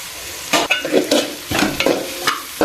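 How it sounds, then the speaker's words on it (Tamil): Onion masala with turmeric and salt frying in a pan for Chettinad chicken curry, stirred with a series of scraping strokes over a steady sizzle, close and fairly loud. "பச்சை வாசம் போகிற வரைக்கும் நல்லா வதக்கிட்டே இருங்க"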